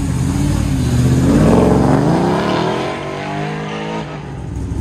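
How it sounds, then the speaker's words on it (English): A 1969 Camaro convertible tears through an autocross course at a Goodguys West Coast Nationals event, its engine loud and close, revving and accelerating with a rising then easing pitch, tires briefly squealing. "Nick Rolampago's rolling up in GG 69 convertible Camaro"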